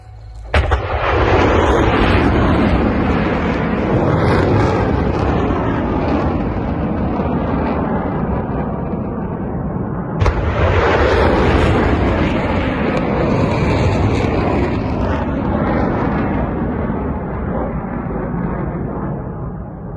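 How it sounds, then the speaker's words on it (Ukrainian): Two ATACMS missile launches roar out in turn, each starting with a sharp crack and swelling into a loud, sustained rumbling blast that fills the scene for many seconds. "Неймовірні пуски Атакамс."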